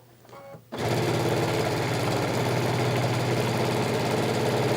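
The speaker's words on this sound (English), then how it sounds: "So I'm just going to start sewing down. And I'm just going to sew it right off the edge of the quilt." A sewing machine stitches across a quilt, running right off the fabric's edge: after a brief quiet moment it starts up and drones steadily and loudly, a continuous mechanical whir with no talking.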